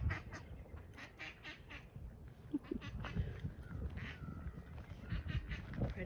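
Geese and ducks at a park lake honk and quack repeatedly over a busy outdoor background, with calls coming in quick irregular bursts from moderately close.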